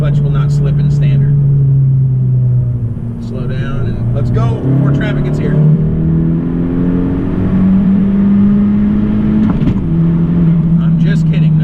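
A tuned, turbocharged tenth-generation Honda Civic with an upgraded clutch pulls hard from third gear, its engine drone climbing steadily in pitch from inside the cabin while the driver talks over it.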